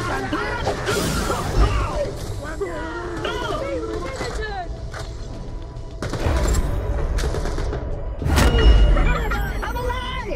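Gunfire from a pistol in the video game Borderlands The Pre-Sequel, with several sharp shots and bursts over game sounds and someone talking throughout, loudest near the end.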